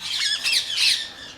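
A pet parrot squawks harshly at close range, a short run of shrill, rasping cries with nothing else heard.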